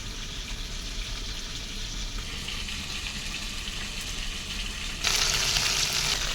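A pot of water at a rolling boil for biryani rice gives a steady, dense bubbling hiss close by, growing noticeably louder and brighter toward the end, with no voices.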